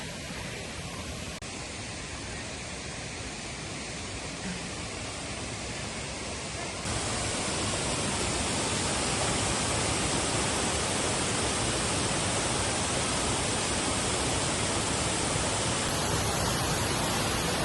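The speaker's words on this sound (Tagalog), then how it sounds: "Finally, makikita na natin si Shiraitu Falls." Shiraito Falls at Fujinomiya, Japan, pours as a loud, dense and steady roar of falling water that swells slightly partway through and holds without a break, no voices over it.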